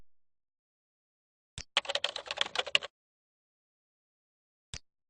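Fingers type quickly on a computer keyboard while entering a name into document management software, one short burst of close, crisp key clicks with a single isolated keystroke before and after, in silence.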